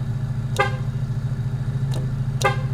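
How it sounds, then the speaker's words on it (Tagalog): Three short car horn toots, spaced apart, over a steady low engine hum, from a Honda Civic EG hatchback. "Swabe rin yung busina natin."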